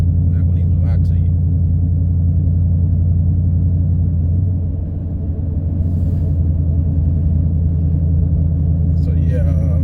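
A Toyota Tundra pickup with an upgraded throttle body drones heavily from inside the cab, a loud steady low engine rumble that barely changes, with a brief dip midway and someone talking over it.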